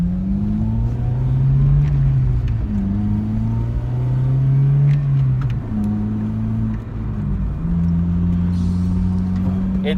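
Steady low exhaust drone inside an Acura RSX with a budget K-Tuned axleback muffler, heavy bass hum rising and falling slightly with engine speed, continuous and fairly loud, no talking.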